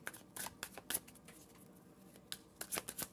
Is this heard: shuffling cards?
yes